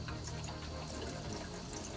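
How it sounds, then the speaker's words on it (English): Tap water runs over soapy makeup brushes in a sink, a steady close rush and spatter of water with a low hum beneath and no voices. "then I turn the water on"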